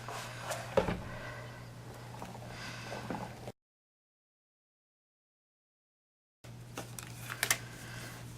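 Big Shot die-cutting machine with its handle cranked to feed cutting plates and an embossing folder through, giving soft mechanical clicks and creaks over a low steady hum, interrupted by a stretch of total silence midway.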